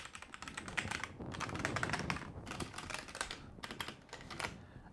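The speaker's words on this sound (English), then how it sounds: "The number keys are a little more clacky." Budget mechanical keyboard keys clacking in steady bursts of rapid typing, crisp and close, with brief pauses between runs and no voices.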